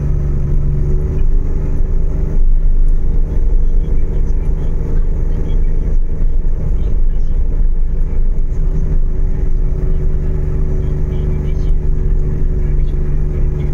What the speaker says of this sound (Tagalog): para lang maipakita sa inyo yung performance ng ating sasakyan na kayang-kaya niya rin yung mga ganitong mga akyatan